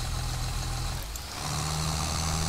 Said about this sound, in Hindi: टॉप गियर लगा दिया भाई देखो ट्रैक्टर